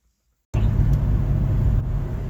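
A 1965 Ford Mustang with a rebuilt C4 transmission and an Edelbrock AVS2 carburetor, heard from inside as it sets off, a steady low engine and road rumble rising abruptly out of silence and holding even.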